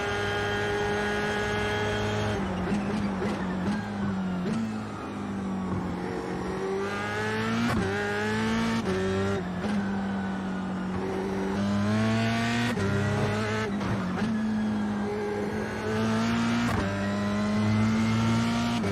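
A race car engine screams on track during a race, heard close from inside the car as it revs up and drops repeatedly through gear changes, loud and continuous with no talking.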